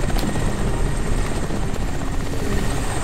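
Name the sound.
helicopter flying in the video game Crysis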